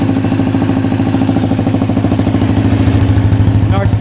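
A Honda XL250R motorcycle engine fitted with a new carburetor, idling steadily with its exhaust on, a rapid even thumping pulse up close and loud throughout.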